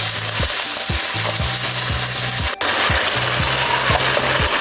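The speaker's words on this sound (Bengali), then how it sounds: "আলু সঙ্গে মশলা ভালোভাবে কষিয়ে নিয়েছি" Potatoes and spices stirred and fried in a pan, a loud, dense sizzle with regular scraping spatula strokes repeating in a steady rhythm and one brief sharp clack midway.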